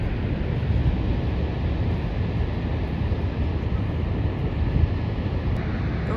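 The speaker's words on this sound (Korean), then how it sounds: "여기 서 있는데도 저 폭포에 물이 얼굴에 튀겨요." Niagara Falls thunders as a steady, dense roar of falling water and spray heard up close, a broad, unbroken wash of noise with no pauses or voices.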